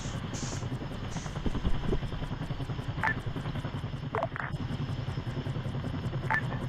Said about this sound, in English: we're in the MI-24 currently